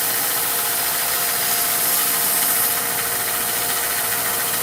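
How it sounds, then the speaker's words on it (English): A belt sander rounding the edges of a wooden axe handle, a loud, steady, close grinding whir with a constant abrasive hiss that runs unbroken throughout. "I've got a belt sander right here that I'm going to sand this with."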